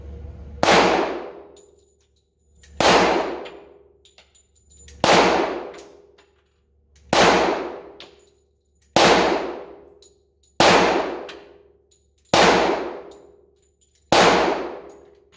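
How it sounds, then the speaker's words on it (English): Eight pistol shots from an FK Brno handgun ring out at a steel target, each sharp report followed by a metallic clang, spaced about two seconds apart in a steady rhythm, loud and close with no talking. "So this is 8 rounds with this thing"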